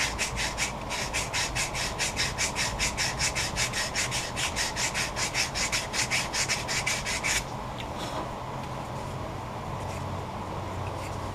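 A wooden coffee scoop is sanded in fast, even back-and-forth strokes for about seven seconds, a steady rhythmic rasp close to the mic that then stops, leaving a low background hum; no one speaks.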